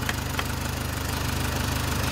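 A four-cylinder car engine idles steadily after a faulty ignition coil on cylinder three was replaced, giving an even, continuous running hum close to the microphone with no talking.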